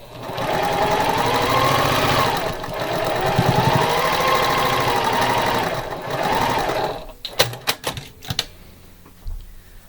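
Sewing machine stitching beginner-friendly Valentine quilt rows together, a steady loud machine whir that runs continuously before breaking into several short sharp bursts and clicks near the end.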